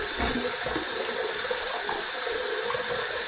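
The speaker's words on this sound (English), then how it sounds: "I'm going to heat this up under some hot, hot, hot water just to warm the razor up" Hot water runs steadily from a bathroom tap to warm a razor during a wet shave, a continuous broadband hiss with no talk over it.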